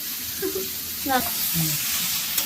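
Hog plums (amra) fry in a pan for pickle, a soft steady sizzle running beneath brief bits of nearby voice and a few light knocks.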